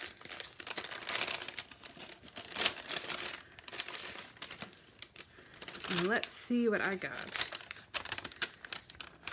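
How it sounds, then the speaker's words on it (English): A swag bag from a kit unboxing is opened, with close crinkling and rustling of wrapping in bursts while a person talks over and between the rustles. "this is the swag bag. Let's go ahead and open it up."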